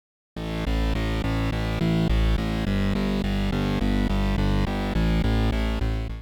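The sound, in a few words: synthesizer bass line pattern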